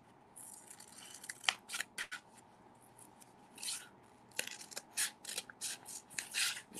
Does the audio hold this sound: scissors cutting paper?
yes